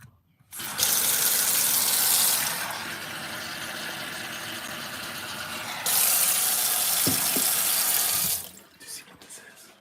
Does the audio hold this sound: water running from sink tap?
yes